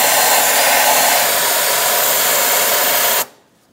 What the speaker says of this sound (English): Using a vacuum, we're going to suck up all the debris around the fuel pump cover.